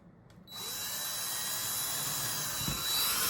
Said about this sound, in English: So I'm gonna drill 33 inches.